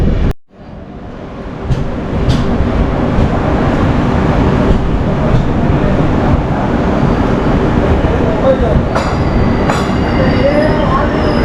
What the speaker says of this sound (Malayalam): വണ്ടി കുന്താപുര സ്റ്റേഷനിൽ എത്തിയിരിക്കുകയാണ്.